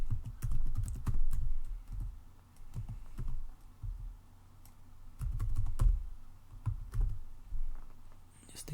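Typing on a computer keyboard, with bursts of quick key clicks and heavier thumps broken by short pauses, close and clear, with no talking.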